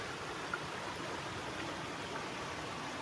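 A mountain stream flows over shale rocks, making a constant, even rush of water that stays steady and moderately loud throughout, with no talking.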